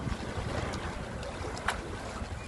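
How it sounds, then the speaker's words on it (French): Sea waves washing against rocks along a coast, a steady broadband wash with wind buffeting the microphone and one slightly louder surge partway through, no voices. "On entend que le bruit des vagues."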